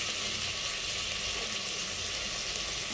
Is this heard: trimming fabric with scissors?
no